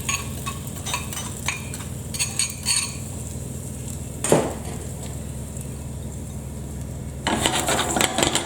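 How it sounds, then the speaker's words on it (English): Onions frying on medium heat in oil in a saucepan, with scattered crackle and sizzle, a few clinks as the pan is shaken, and a louder burst of frying near the end. "Shake them along and leave them on a medium heat for about 5 minutes"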